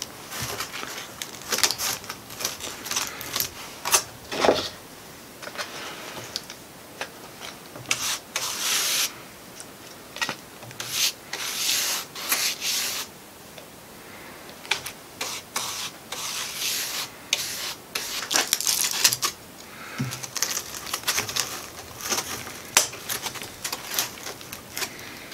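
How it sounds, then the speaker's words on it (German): A brush dabs and presses resin into fiberglass laminate to push out air bubbles, giving repeated soft scratchy rubbing strokes in an irregular rhythm, close and fairly quiet, with no talk. "deswegen versuche ich die Luftblasen mit dem Pinsel rauszudrücken"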